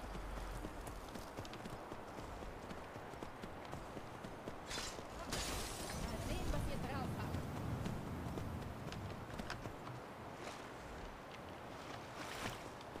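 Horse hooves galloping in Skyrim, a steady rapid clip-clop under a continuous wash of game ambience and water, fairly faint overall.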